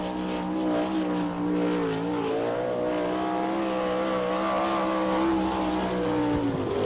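A sprint car runs a qualifying lap at Attica, Ohio, during All Star Circuit of Champions Ohio Speedweek, its engine a steady loud high-revving drone that rises and falls slightly through the turns and holds throughout.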